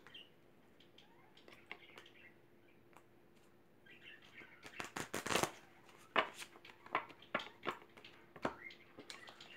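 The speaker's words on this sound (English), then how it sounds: "Shuffle these ones too" Tarot cards are shuffled during a reading. After a quiet start come bursts of crisp riffling and slapping clicks, close and increasingly busy through the second half.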